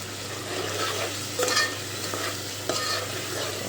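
Tomatoes sizzle in a masala for soybean biryani while a spoon scrapes and stirs them through the pan. A steady frying hiss runs underneath, with a couple of louder stirring strokes. No one talks.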